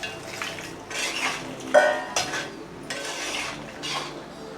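A spoon stirs and scrapes through sugar syrup flavoured with cardamom in a metal pan, repeated clinks and scrapes close by with a soft sizzle underneath and no one speaking.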